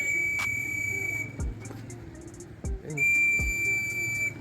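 Pigeon-training whistle blown outdoors in repeated shrill, steady blasts that pause and resume, with a few low thumps between them.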